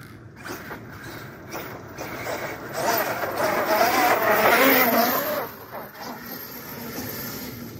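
An Arrma Outcast 8S EXB RC car speeds uphill, its whining motor rising to a loud, close peak midway and then fading as it pulls away.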